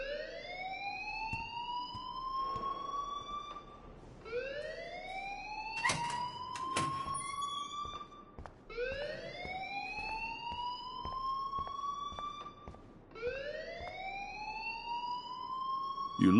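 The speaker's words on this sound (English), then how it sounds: "please turn off that alarm since that's your job" Fire alarm sounding in the video game Life is Strange: four repeated rising electronic whoops in a steady cycle, with a few sharp knocks between them and no voices.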